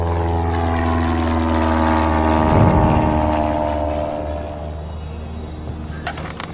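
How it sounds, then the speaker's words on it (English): A propeller aircraft drones loudly as it approaches an island in a Lego Jurassic World animation, its engine hum steady and close, briefly swelling and then fading slightly toward the end. "Unidentified aircraft approaching Isla Sorna."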